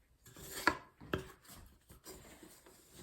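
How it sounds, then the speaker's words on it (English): Dutch whisk scraping the sides of a bowl while mixing shaggy no-knead bread dough, with two sharp scraping strokes followed by softer rubbing and stirring, close and fairly quiet. "I use the Dutch whisk to also scrape the sides as I'm going through it."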